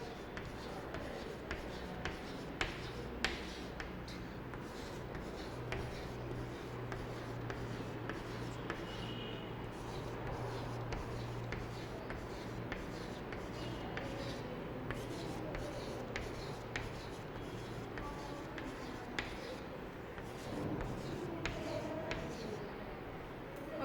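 A pen scratches and rubs across paper in short, quiet strokes while sets of balls are drawn for a maths lesson on two-digit numbers. The pen sound is soft and close with faint background noise.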